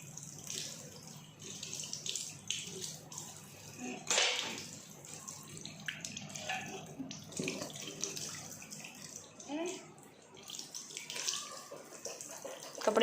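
Tap water runs steadily in a home bathroom while someone rinses their mouth after brushing, with faint splashing and brief surges, close by and continuous with no one talking.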